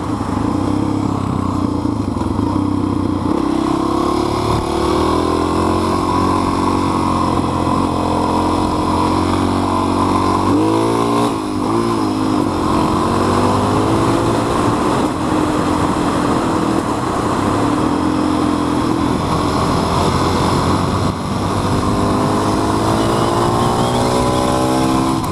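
A Honda XR650R motorcycle rides on twisty roads, its single-cylinder engine droning loud and continuous with wind rush, revs rising and falling through the bends.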